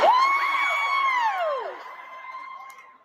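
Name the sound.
comedy audience cheering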